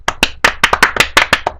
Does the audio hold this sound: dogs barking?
no